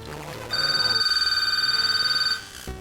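A landline telephone rings with a steady electronic trill that pulses rapidly for about two seconds, loud and close, then cuts off abruptly.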